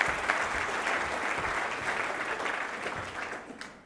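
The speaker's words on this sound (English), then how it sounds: "give her a round of applause" Audience applause at a GAO conference, a steady wash of clapping from a large crowd that holds for about four seconds and then begins to thin out.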